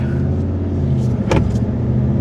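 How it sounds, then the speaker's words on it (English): A 2026 RAM BigHorn pickup with a HEMI engine drives off, its steady, loud low engine drone heard from inside the cab, with a brief click or knock midway. "we are taking off in this truck for a little drive"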